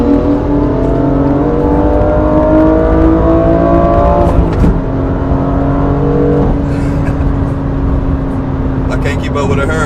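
A BMW M2 Competition engine revs loudly up close, rising in pitch, then drops sharply as it downshifts before climbing again under hard acceleration, with steady road and wind roar throughout.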